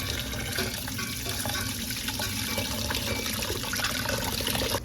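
Dal for khichra is rinsed under a running tap, with a steady rush of water splashing into a sink and metal vessel close by.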